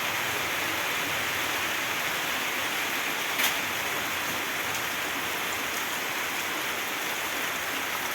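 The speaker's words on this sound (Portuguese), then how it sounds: "tá chovendo agora de tarde" Steady afternoon rain falls in a rural setting where a water tank is filling, making an even, dense hiss with no breaks and one faint tick partway through.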